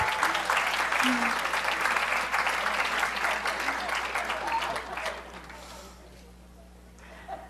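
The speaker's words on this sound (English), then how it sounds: "give them a round of applause for their courage" An audience claps for YMCA dancers, a crowded burst of applause that starts strong and gradually thins out, fading to quiet near the end with faint voices underneath.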